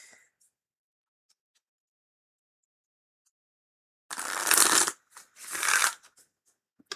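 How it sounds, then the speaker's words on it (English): Two brisk bursts of shuffling from a tarot card deck, the cards riffled close up in quick succession after a silent lead-in, with no voices over them. "Oh, that was a beautiful shuffle"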